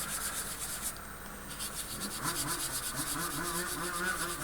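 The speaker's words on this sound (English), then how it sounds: "So just give them a nice sanding." Hand sanding of plastic wheels on a 1/35 scale Zvezda T-14 Armata tank model: steady, close rubbing scratches with a faint chirping rhythm, no voices.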